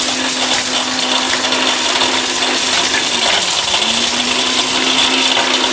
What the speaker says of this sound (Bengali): জাদুর একটা ব্লেন্ডার কিন্তু বাংলাদেশের বাজারে কিন্তু চলে আসছে